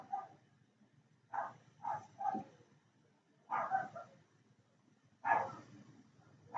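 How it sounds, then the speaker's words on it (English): A dog barks in short bursts, several sharp woofs spaced irregularly with pauses between, moderately distant and fairly quiet. "The dog barking."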